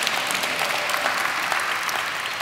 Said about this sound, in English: you can clap at any point